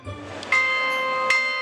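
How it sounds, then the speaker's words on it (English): A bell rings twice at Borough Market, each clear metallic strike followed by a sustained ringing tone, loud and close, with no talking. "The bell still is rung every day at whenever the market's open"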